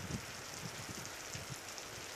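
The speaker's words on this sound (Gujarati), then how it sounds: "ગુજરાત રાજસ્થાન વિસ્તારના ગામોમાં પવન સાથે વરસાદ વરસી રહ્યો છે" Rain falling steadily with wind during an unseasonal rainstorm over villages in the Gujarat and Rajasthan region, a soft, even wash of noise with faint low gusts and no voices.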